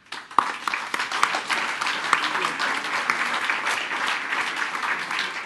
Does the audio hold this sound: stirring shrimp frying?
no